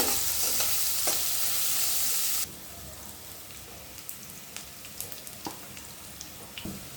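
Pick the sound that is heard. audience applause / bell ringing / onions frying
onions frying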